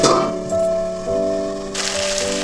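A lid is set down over a pan of vegetables cooking with spices for a Bengali yardlong bean and potato curry, giving a single metallic contact that rings on with a sustained tone, then a brighter hiss of steam and cooking.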